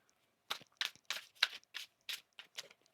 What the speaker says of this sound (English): One more shuffle here, please, Anne.